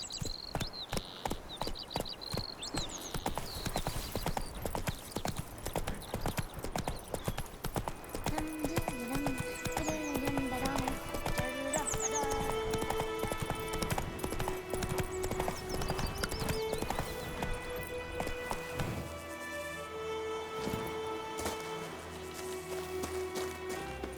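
Horse hooves in The Witcher 3 clip-clop steadily in a fast rhythmic beat, loud and continuous, beneath game music, with a short whinny.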